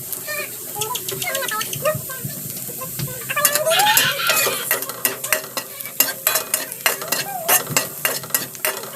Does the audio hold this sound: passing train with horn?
no